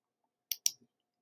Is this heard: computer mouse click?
yes